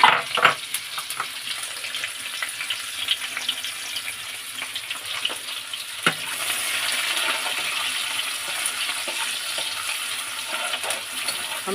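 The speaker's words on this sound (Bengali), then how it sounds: "পেঁয়াজটা দিয়ে দেবো, পেঁয়াজটা ভাজা" Onion fries with black cumin seeds in a pan for a home-style dish, a soft continuous sizzle broken by occasional stirring scrapes and clicks, with a few sharper pops near the start.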